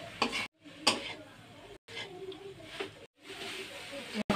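Jaggery laddu mixture stirred in a pan over medium heat: scraping, rasping strokes come in short bursts broken by brief pauses, with a voice faintly underneath.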